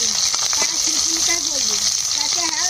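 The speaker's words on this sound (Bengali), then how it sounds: "তেল দিয়ে দেবো, ফোড়ন করবো, তেজপাতা ফোড়নে দেবো" Bay leaf tempering crackles in hot oil with a close, steady, loud sizzle, while a voice talks over it.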